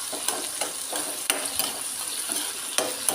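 Shallots and tomato sizzle in a pan for a Kerala fish curry base while a spoon stirs them, soft scraping strokes recurring every half second or so over a steady frying hiss.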